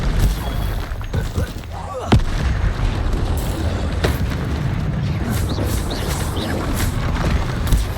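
Combat spells such as Incendio and Confringo go off in the Hogwarts Legacy game. Booming, explosive impacts punch through, with one heavy blast early on, over a constant rumbling battle din.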